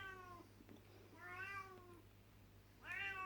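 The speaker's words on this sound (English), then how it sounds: "I'm just going to go and chase the cat away because she's doing my head in." A domestic cat meows three times, each call a drawn-out, clear cry with pauses between, close and fairly loud over a steady low hum.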